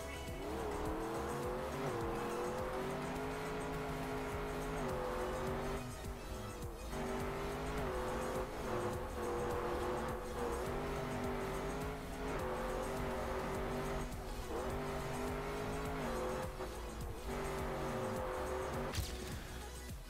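Stadium car in the racing game Trackmania, its engine droning steadily at high revs with pitch wobbling through gear shifts and slight dips, tires squealing, loud and continuous throughout with no speech.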